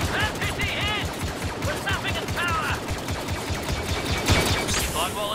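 Rapid bursts of blaster fire crackle through a Star Wars Battlefront 2 battle, dense and continuous across the clip, layered with game effects and faint voices.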